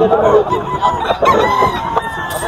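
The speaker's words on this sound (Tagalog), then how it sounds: "Oh, ang manok ni San Pedro" A White Hatch rooster crows at a poultry market in Bocaue, its call standing out over a busy, crowded background with other fowl clucking around it and people talking nearby.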